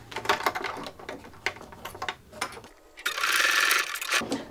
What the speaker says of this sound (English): So I'm going to stitch along there just to secure those in place.